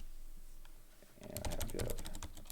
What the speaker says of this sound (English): you just type bash in there